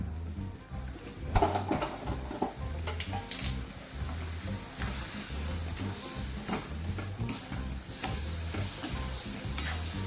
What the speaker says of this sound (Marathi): ह्या लिंबाच्या गरामध्ये पूर्ण मिक्स करून आपल्याला पूर्ण वितळू द्यायची आहे।